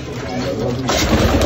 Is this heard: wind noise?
no